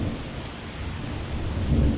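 A summer thunderstorm with steady rain falls outdoors, a dense continuous wash of rain noise with low thunder rumbling beneath and swelling louder toward the end, with no voices.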